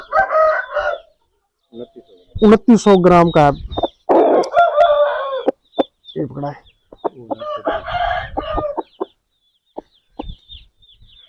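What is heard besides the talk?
rooster crowing and clucking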